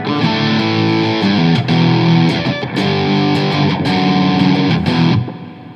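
An electric guitar with a distorted crunch tone plays rock chords, loud and sustained, with a few short pauses between chord changes before it cuts off near the end.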